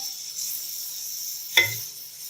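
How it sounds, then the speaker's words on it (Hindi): Onions frying in a pan over medium heat, browning toward dark brown for a chicken korma: a steady high hiss runs throughout, broken near the end by one short, sharper burst of sizzle and a stir. "मीडियम आंच पर हम प्याज को फ्राई करेंगे"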